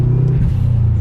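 A Subaru Impreza engine idles and revs with a deep, steady rumble, close and loud, the pitch dipping briefly midway before settling back into a low drone.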